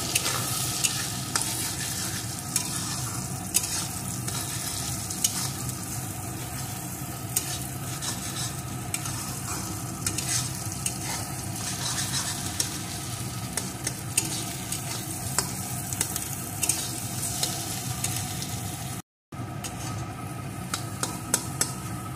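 Egg bhurji is stirred steadily in a hot pan over raised heat, giving a continuous close sizzle and frying crackle with spatula scrapes throughout, broken by a very brief gap near the end.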